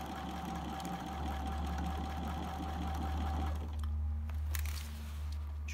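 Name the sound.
sewing machine stitching a hat brim toile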